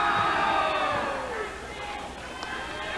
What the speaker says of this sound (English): we've got a little excitement here in the crowd